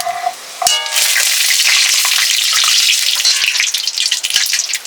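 Dried red chili and bay leaf dropped into hot oil for a fish curry set off a sudden loud, crackling sizzle that stays intense and bubbly, with sharp spatters popping through it.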